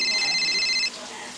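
An incoming call on a mobile phone sounds as a brief, high electronic ringing tone that cuts off abruptly after about a second, leaving quiet room noise.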